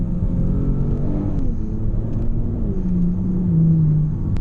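A 2018 Kia Stinger GT AWD engine drones under load and rises in pitch during manual-mode downshifts, a steady loud rumble heard from inside the car.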